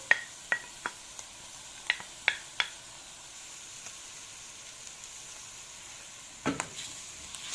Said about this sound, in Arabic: اول ما تغير لون اللحمه كده هنحط عليها بصله كبيره مفرومه